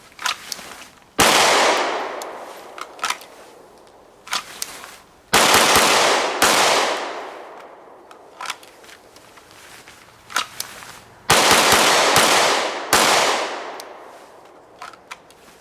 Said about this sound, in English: what I'm going to do is just do some presentations shooting the 9mm 1911 Champion